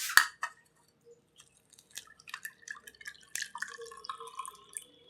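Beetroot juice drips through a strainer in a kitchen, with a burst of pouring liquid at the start followed by scattered small drips and soft trickles, close and quiet.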